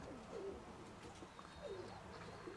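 A pigeon coos softly a few times, low rounded calls over a steady outdoor background hum, at a fair in Berdychiv, Ukraine.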